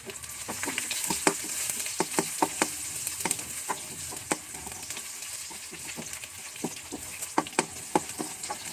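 Onion dropped into oil with browned garlic for a sardine sotanghon dish, frying with a steady sizzle broken by frequent sharp crackles and pops, close and fairly quiet.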